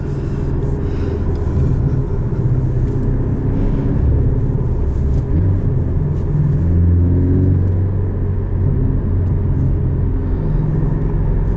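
A 2018 Porsche 718 Cayman S with a manual gearbox and flat-four engine drives along with a constant low drone from inside the cabin. Its pitch swells and rises briefly midway through.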